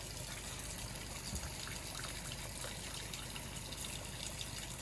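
Water runs steadily from an outdoor tap and hose, a continuous even trickle and splash that holds at one level throughout, with no voices.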